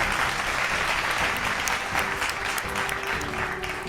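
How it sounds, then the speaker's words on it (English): Audience at an awards ceremony applauding, a dense, loud, sustained wash of clapping from many hands that continues steadily throughout and eases slightly near the end. "Dinesh deserves a thunderous round of applause for all his hard work."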